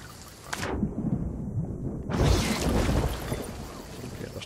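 A thunderstorm rages at sea in Sea of Thieves, with two heavy thunder crashes booming over constant roaring rain and wind around a ship, loud and close, without talk.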